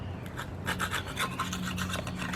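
Sharpened cheese spreader scraping old gasket material off a 1977 Buick LeSabre 350 engine, a steady series of close, rasping strokes with a dry, gritty texture.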